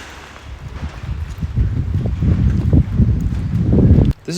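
Blustery wind with loose metal sheets dangling from a tornado-damaged abandoned arena building rattling and clanking in irregular bursts, growing louder, followed by a sharp clatter near the end.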